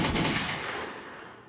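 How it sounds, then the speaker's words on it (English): A single gunshot effect in a music beat: a loud, broadband blast at the start that decays over about a second and a half. "Giving it the gunshots"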